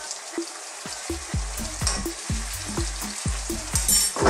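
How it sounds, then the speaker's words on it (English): Scallops with lemon frying in a pan, a bright crackling sizzle with a regular series of scraping stir strokes, close and alone without talk. "Now all of that lemon and the acid from the lemon is going to really also help our scallops just cook along."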